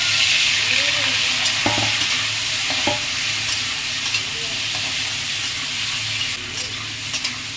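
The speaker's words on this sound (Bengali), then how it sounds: "দেখুন বন্ধুরা কড়াইতে দেওয়ার সাথে সাথে চিংড়ি মাছগুলো কত সুন্দর লাল হয়ে গেছে।" Shrimp fry in hot oil in a wok, giving a loud, continuous close-up sizzle with a few sharper crackles and stirring knocks; a faint voice may briefly rise beneath the frying.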